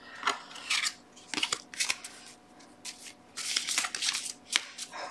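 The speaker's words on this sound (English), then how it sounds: "I'm going to shuffle these guys now" Close-up bursts of tarot cards being shuffled, quick riffling and sliding strokes repeated several times with short pauses between.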